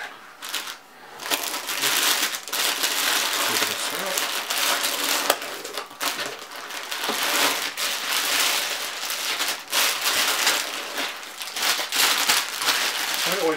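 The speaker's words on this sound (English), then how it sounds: "here we have the mount in a nice plastic bag surrounded by foam" Plastic bag and packing foam crinkling and crushing close up while an iOptron IEQ30 telescope mount is unboxed, a steady dense rustle running throughout with brief pauses.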